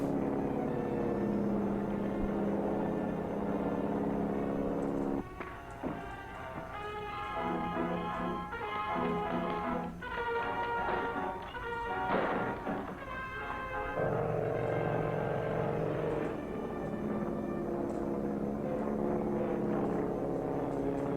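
An airplane takes off, its engine drone and propeller hum rising and swelling steadily for about twenty seconds, moderately loud and unbroken, with no voices.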